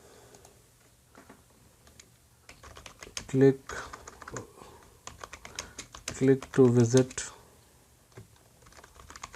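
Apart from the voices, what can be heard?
typing on a computer keyboard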